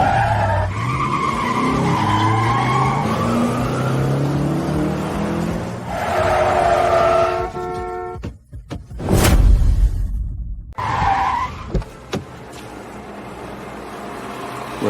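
Car tyres screech through a long, loud skid during a car chase, with engine revving and a passing whoosh; earlier, voices and a tonal score play before the skid takes over.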